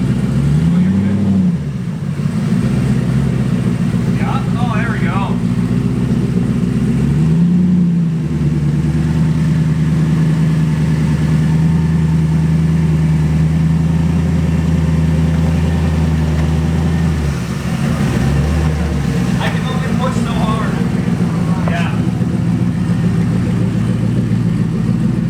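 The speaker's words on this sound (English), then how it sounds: "Just spinning in the snow." A turbocharged car's engine drones steadily as its wheels spin in snow, a loud close hum with a few rising revs and dips, continuous throughout with occasional speech over it.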